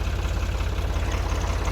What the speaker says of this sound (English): So I'll get on my tractor here, the Ford 340A.